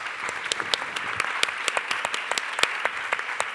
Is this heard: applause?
yes